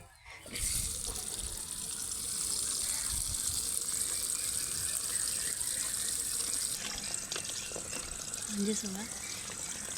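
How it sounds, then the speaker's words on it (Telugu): Water runs steadily from a tap into a bucket, a continuous splashing hiss that stops near the end, followed by a brief voice. "ఇది చూడండి దీనిలో నీళ్లు పడుతున్నానండి"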